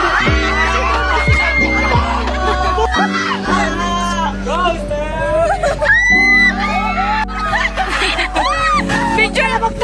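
A group of people at a school intramurals event shouting together on command, a loud, continuous mass of yelling and screaming voices with talk mixed in.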